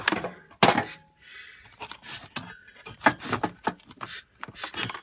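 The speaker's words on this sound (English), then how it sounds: "Here you can smooth that Bondo out." Rough, scratchy sandpaper strokes rasp against Bondo body filler in irregular bursts, close by, with short pauses between passes.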